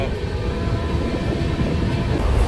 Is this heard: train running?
yes